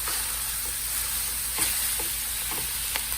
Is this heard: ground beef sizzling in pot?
yes